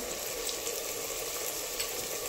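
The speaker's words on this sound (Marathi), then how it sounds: "इथे हाय फ्लेमवरतीच मी सगळ्या भाज्या व्यवस्थित परतून घेत आहे" Mixed vegetables stir-fried on high flame for pavta rice, a steady faint sizzle with occasional soft stirring sounds.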